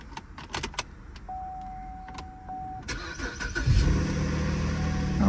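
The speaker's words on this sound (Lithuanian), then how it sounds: "Variklis girdisi, kad bent jau V6" A Cadillac with at least a V6 engine: a few sharp clicks and a steady chime, then a brief whir before the engine cranks and catches, settling into a rumbling idle close by.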